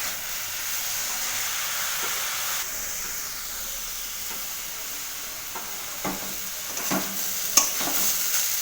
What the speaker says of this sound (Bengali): এরমভাবেই আমি কড়াইতে নাড়বো, নেড়ে নেড়ে এই পেঁপের ছেচকিটাকে তৈরি করব।